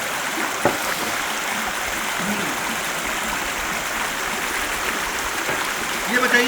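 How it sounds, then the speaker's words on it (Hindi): A mountain river flowing beside a roadside eatery in the Kumaun hills of Uttarakhand, a steady rushing wash close by, with a few brief knocks and faint background noises over the constant flow. "बगल से नदी बह रही है।"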